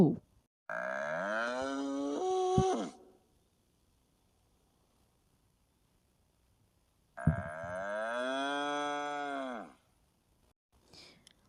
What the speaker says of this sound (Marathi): बैलसुद्धा मोठमोठ्याने डिरकी घेतो